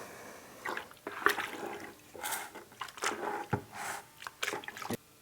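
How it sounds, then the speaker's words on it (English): Joint compound mixed with water and worked by hand with a mud masher in a bucket, giving intermittent wet squishing and sloshing strokes, close and fairly quiet, in uneven bursts. "take our mud masher, and just mix it up"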